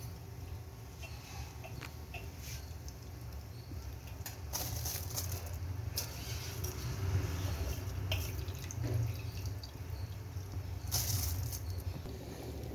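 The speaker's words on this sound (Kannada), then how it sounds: "ಈಗ ಅಕ್ಕಿನ ಹಾಕಿ ಅಕ್ಕಿ ಈ ಥರ ಕುದಿ ಬರ್ತಿದೆ." Rice and soya chunks bubble in boiling water in a pressure cooker pot for menthya bhath, a steady close simmering hiss with a few louder splashy swells and no talking.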